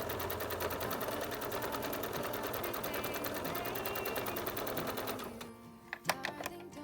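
A sewing machine stitches down through the folds of a fabric face mask, a steady rapid mechanical whirring and clatter at close range that stops near the end, followed by a few small clicks.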